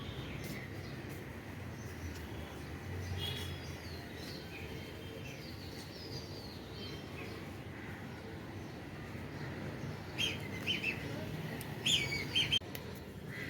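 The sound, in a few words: pigeons on a rooftop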